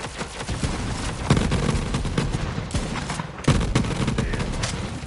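Heavy gunfire in a video game fight, continuous rapid shots and bursts with a couple of louder booming impacts, dense and close throughout.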